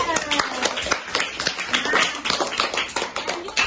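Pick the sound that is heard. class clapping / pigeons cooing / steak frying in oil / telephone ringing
class clapping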